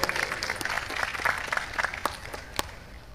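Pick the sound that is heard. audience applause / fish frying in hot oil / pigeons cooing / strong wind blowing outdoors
audience applause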